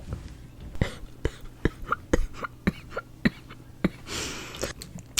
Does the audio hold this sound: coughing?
yes